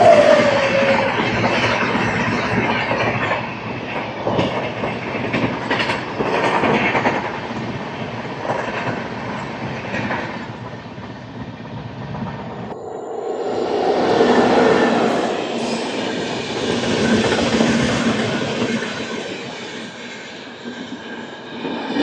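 The 12840 Howrah Mail, MGR Chennai Central to Howrah, runs on the tracks with a loud, continuous rumble and rattle that briefly dips before surging back. No voices are heard.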